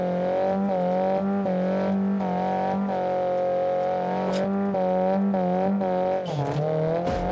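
Tofaş car engine revving loudly in the driving game BeamNG.drive, a steady harmonic drone that rises and falls in repeated throttle blips, ending with a brief squeal-like burst.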